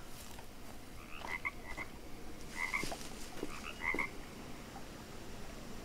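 Poison frogs croaking in the jungle survival game Green Hell: three clusters of short, chirpy croaks at a moderate distance, repeating every second or so over a steady wash of ambient noise.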